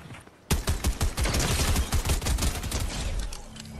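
Rapid bursts of gunfire in a Fortnite match, loud and close, a dense volley of overlapping shots that starts abruptly and keeps rattling without a pause.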